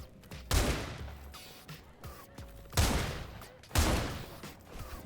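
Bursts of gunfire from the shooter game SULFUR, three loud volleys spaced a second or two apart, with quieter shots and clatter between them, no talking.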